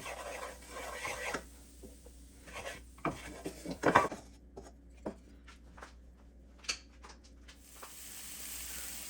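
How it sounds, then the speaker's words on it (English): Diced vegetables sautéing with flour in a hot pan for conch stew, a faint, soft sizzle broken by scattered scrapes and taps of a utensil stirring against the pan, with no talking. "now I'm just gonna saute the veggies with the flour"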